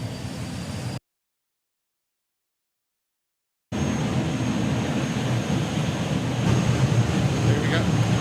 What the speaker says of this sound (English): So, jet dragster against jet funny car.